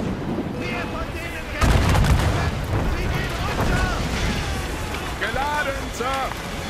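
Ship cannons fire in a naval battle in Assassin's Creed Rogue, with a heavy booming blast amid continuous rumbling battle noise, and voices are heard shouting over it.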